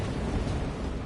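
A thrown grenade detonates in the video game Space Marine 2, giving a brief, fairly quiet, muffled blast rumble that stays steady and low, with no talk.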